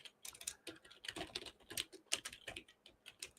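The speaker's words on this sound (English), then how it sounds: "Well, I'm typing." Quiet, rapid tapping on a computer keyboard, with irregular bursts of keystrokes close by and no talk.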